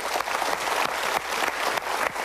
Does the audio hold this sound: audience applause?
yes